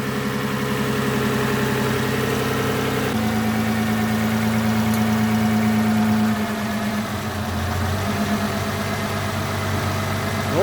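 A Toyota Camry 30 idles steadily with a constant low hum while its gas equipment switches over from petrol to LPG, and the engine note shifts pitch partway through, close and without talk.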